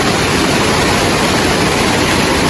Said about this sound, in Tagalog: malakas yung ulan